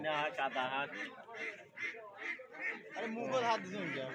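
Busy, nasal quacking and honking of many ducks crowded close together at a duck market in Khalashpir, Bangladesh, continuous and overlapping, with a murmur of voices mixed in.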